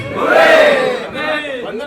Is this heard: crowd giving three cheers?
yes